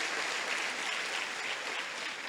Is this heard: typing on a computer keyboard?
no